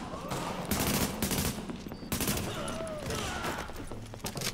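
Gunfire in Tom Clancy's The Division during a co-op session at Madison Square Garden: repeated loud shots and bursts sit over a dense mix of game effects and music throughout.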